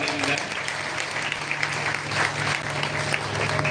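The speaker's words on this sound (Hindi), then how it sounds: "तो मास्टर जी के लिए भी जयप्रकाश जी के लिए एक बार जोरदार ताली दी जाए" An audience at a Bhagavat katha claps vigorously in a steady, dense burst, with a voice audible beneath the clapping.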